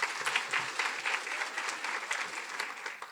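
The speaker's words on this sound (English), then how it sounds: "Ladies and gentlemen, a huge round of applause for Miss Deavra Daughtry." A leadership summit audience gives a speaker a big round of applause, dense continuous clapping that stays loud and even from start to finish.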